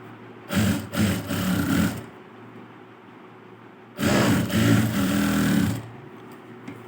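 Sewing machine running stitches on a blouse, heard in two steady mechanical bursts of about one and a half seconds each separated by a quiet pause, close and clear with no talking.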